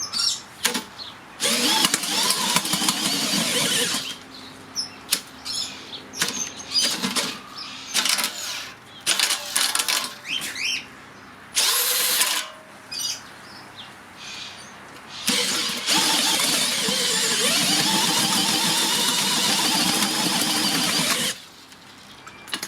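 Makita cordless power earth auger with a 100mm (4-inch) auger bit drilling into the ground, a motor whirring in several bursts and stops, broadband grinding and soil churning, close and loud.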